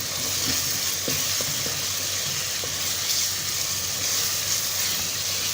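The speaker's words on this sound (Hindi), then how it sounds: "अदरक और लहसुन की पेस्ट को 2 मिनट के लिए कुक करेंगे" Steady hiss of ginger garlic paste frying in a pan, with a few faint clicks and stirring scrapes, continuous and close throughout.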